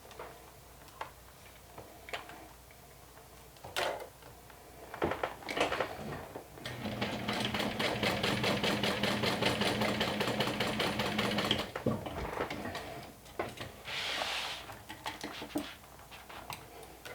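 A sewing machine stitches a Nintendo Switch case made from a modified Sew Sweetness Hackney pattern. A few ticks lead into a steady whirring run of several seconds, then a shorter burst.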